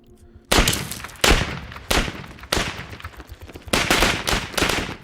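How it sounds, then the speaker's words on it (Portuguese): A burst of gunfire: several sharp, loud shots in quick irregular succession, each with a short echoing tail, following a brief moment of quiet. "O silêncio é quebrado por disparos de tiros."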